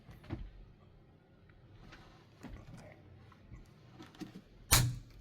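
Hand screwdriver with a swappable bit driving a screw by hand: scattered creaks and dry clicks with gaps between them, ending in one loud, sharp snap.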